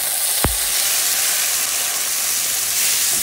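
Garlic and tomato sauté in a hot pan, giving a loud, steady sizzle and hiss throughout, with a single sharp tap near the start.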